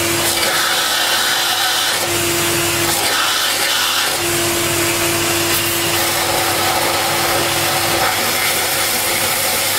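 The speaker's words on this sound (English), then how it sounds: "I'm just going to see if I can get in there with a vacuum." A Vax Zen powerhead vacuum cleaner, its gauze filter blocked, runs loud and close with a steady motor whine, sucking debris and grit in a continuous harsh rush that holds for the whole stretch with no talking.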